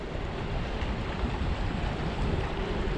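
Steady, strong wind roars outdoors near Totenåsen in Norway, buffeting the microphone with broad rushing noise and no pauses.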